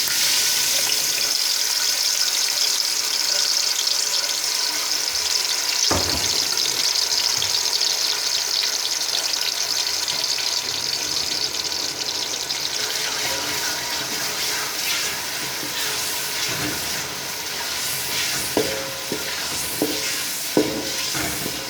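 Onion and garlic sizzle and crackle steadily in a hot pan for an aloo matar curry, with occasional stirring clatters and a brief splash of running water.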